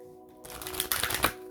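Tarot cards being shuffled give a quick, close riffle of papery flutter and snapping that builds over about a second, with no speech.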